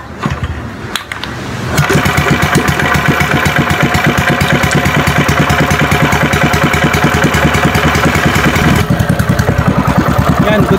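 A motorcycle engine starts and settles into a loud, steady idle right after its carburetor has been cleaned, running close by with an even rhythmic pulse for several seconds.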